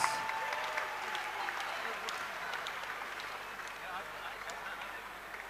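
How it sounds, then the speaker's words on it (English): A crowd at an MMA event applauds the runner-up, Shawn Lomas, in a steady, even wash of clapping that lasts throughout, with voices mixed in. "I'm sure you'll give a big, big round of applause to your runner-up, Shawn Lomas"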